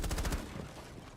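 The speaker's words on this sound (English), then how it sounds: "Oh, yo, he's shooting back, chat, like this." Gunfire in Rainbow Six Siege: a quick, fairly quiet burst of rapid shots that fades within about a second, heard alone.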